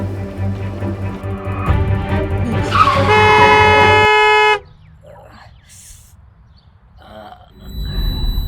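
A car horn blares in a long sustained honk at close range over road rumble, then the street goes quieter before traffic noise rises again.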